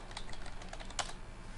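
Typing on a computer keyboard: a quick, close burst of crisp key clicks, with one sharper tap partway through.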